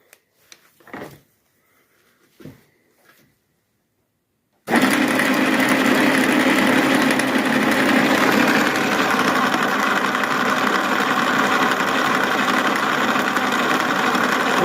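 A few faint clunks precede a metalworking machine starting up at 640 rpm, with a planer and a 676P milling machine in the shop. It then runs loud and close with a steady dense mechanical whir and hum, unbroken to the end.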